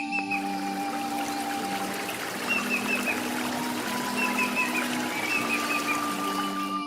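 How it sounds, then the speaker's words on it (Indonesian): A fairly swift river flows below a village spring, giving a constant rushing trickle of water with birds and insects chirping and droning throughout. "di bawahnya terdapat sungai yang airnya cukup deras"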